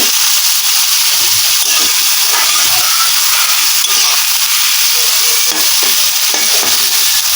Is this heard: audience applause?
no